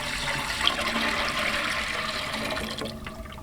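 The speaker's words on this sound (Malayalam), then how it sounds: "ആ നിലയ്ക്ക് വെള്ളം ഒഴിച്ച് കൊടുക്കാം" Water pours steadily into a cooking pot as the base for prawn biryani, a continuous gushing splash that runs close and fairly loud before easing slightly at the end, with no talking.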